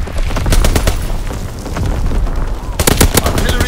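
Loud, close machine-gun fire in Call of Duty: WWII, anti-air bursts clearing the skies during a Shipment 1944 Domination match, rapid rattling volleys with heavy booms, pausing briefly before another intense burst.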